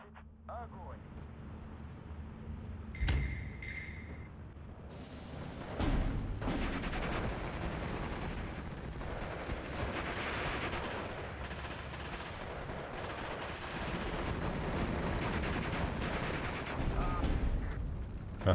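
Mortar fire in the Steel Division 2 game, with booming distant explosions and rattling gunfire under a low battle rumble and several sharp louder blasts. Someone talks over the combat.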